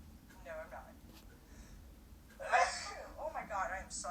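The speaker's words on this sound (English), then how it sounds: "I'm about to sneeze again." A person's sneeze bursts out loud and close midway through, between breathy sniffs and short vocal sounds, in an indoor room during allergy season.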